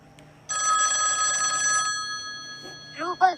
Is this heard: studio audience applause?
no